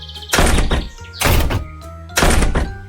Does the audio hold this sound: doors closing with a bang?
yes